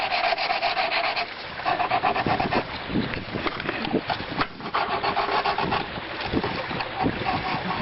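Burrs on the edge of a pool deck drain being touched up by hand, a continuous scraping and rasping that repeats in short strokes at close range, loud and steady across the clip.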